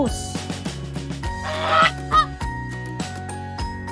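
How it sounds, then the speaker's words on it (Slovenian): A farm goose honks in a series of loud, close, nasal honks in an irregular rhythm. "Gos, gos."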